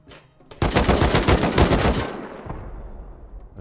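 An auto turret in the video game Rust unleashes a loud, close burst of rapid automatic gunfire lasting about a second and a half, then fades into a lingering echo.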